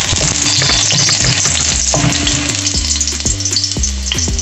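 Food sizzles loudly and steadily in a pan as it is stirred until brown, with frequent scraping and clattering strokes of a utensil against the metal running throughout.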